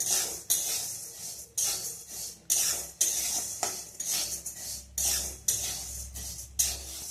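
Frying in a kadai while a utensil stirs and scrapes, with clattering metal strokes repeating in bursts every half second or so over a faint hiss, close and fairly loud with no talking; moong dal is being fried.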